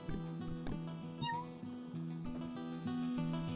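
A cat in the video game Ikenfell gives a short meow over a soft, plucky game music loop.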